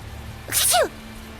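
A single sharp sneeze from a character in Tales of Zestiria bursts out over a quiet, steady background hum, brief and close.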